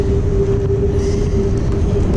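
A train rolls alongside a cyclist's road as a continuous loud, low rumble with a steady humming tone, close by throughout.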